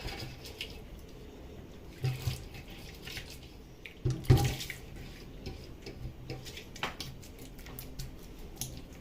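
Water is sprinkled around kneaded dough for Ethiopian bread, faint close splashes and dribbles with a few louder wet thumps and handling noises, no talking.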